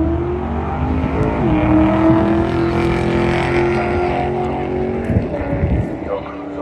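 A 1984 Ford Mustang running down a drag strip, a loud sustained engine roar with rising pitch, close and dominant, with a voice speaking over it.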